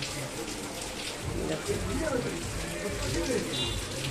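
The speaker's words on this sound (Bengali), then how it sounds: "বৃষ্টি পড়ছে তাহলে বেলেঘাটায় আজকেও বৃষ্টি" Rain falls in Beleghata, Kolkata, as a steady, fairly loud wash of broadband patter lasting the whole stretch, with indistinct voices murmuring beneath it.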